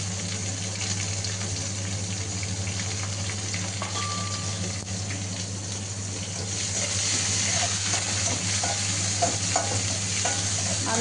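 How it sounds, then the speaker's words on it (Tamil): Three chopped onions fry in oil in a pan for a gravy, giving a continuous close sizzle that grows louder and brighter partway through, with light stirring. "அந்த ஆனியனை போட்டு நல்லா வணக்கணும்."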